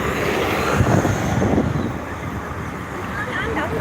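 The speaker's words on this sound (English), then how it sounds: "Here go those 34 buses." Route 34 buses pass along a busy Scarborough street in Toronto, their broad engine rumble and road noise swelling close by, then easing into steady traffic hiss with some wind buffeting.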